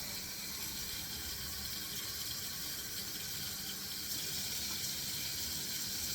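Water streams and hisses steadily as it is poured into the bottom of an oven pan while egg bites are prepared, a continuous soft gushing with no talk.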